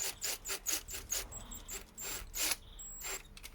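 A power drill driving screws back into the front fascia of an XR5X4 Turbo, run slowly in short bursts, giving repeated whirring squeals with brief pauses between them.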